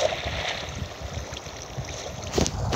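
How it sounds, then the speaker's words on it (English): A waterfall in the Minecraft survival game gives a steady, fairly loud rush of flowing water that continues without a break. "There's a whole waterfall right here."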